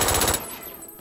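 Rapid automatic gunfire from the shooter video game Brink, a dense loud burst of rhythmic shots for the first part that cuts off and leaves a quieter tail of game ambience.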